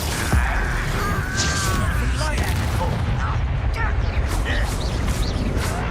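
A Confringo blasting spell erupts in Hogwarts Legacy with a sharp boom followed by crackling, rumbling debris and magical whooshes, while combat voices and effects mix in the background.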